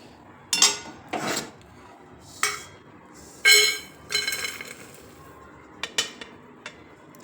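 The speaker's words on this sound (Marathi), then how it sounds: "आता हे एका प्लेटमध्ये मी काढून घेते।" Dry-roasted ingredients for dhaba-style lasuni methi are scraped and tipped from a pan onto a plate, giving a few separate metallic scrapes and clinks with short quiet gaps between them.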